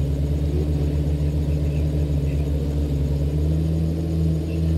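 In Farming Simulator 2013, a worn-out tractor arrives with a steady, close mid-pitched engine drone that holds a constant hum for about five seconds without talking.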